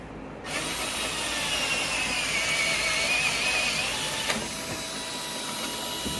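A power drill boring holes in wood for a DIY rope bridge gives a steady whining hum that starts abruptly and runs without a break, fairly loud and close, with no talking.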